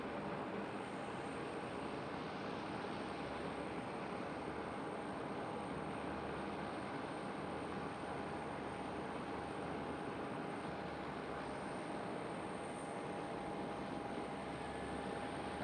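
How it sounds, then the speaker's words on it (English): A KLM Cityhopper Embraer E195-E2 jet lines up on runway 24 at Amsterdam Schiphol, close by, with a steady broadband engine roar and a thin whine held throughout, no talking. "So KLM Cityhopper E195 E2 lining up, runway 24."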